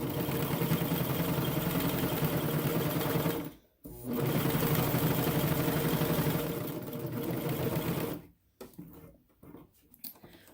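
A coverstitch sewing machine runs loud and steady while topstitching a seam on leggings, with a brief pause near the middle, then starts again and stutters to a stop near the end.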